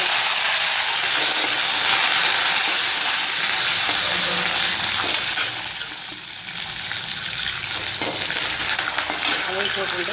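Green chillies and curry leaves frying in hot oil with mustard and cumin seeds for broken rice upma, a loud, dense, continuous sizzle that crackles close up and eases slightly midway.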